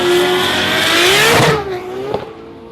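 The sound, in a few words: drag racing car launching down the strip, spinning its tyres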